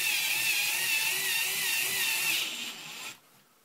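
A DeWalt DW920 cordless drill converted to lithium runs at high speed with a steady, loud whine, then eases off and spins down near the end as the variable-speed trigger is released.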